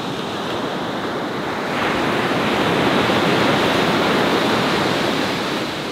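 Ocean waves break at high tide, a continuous, loud roar of surf that swells in intensity partway through and holds steady, with no voices.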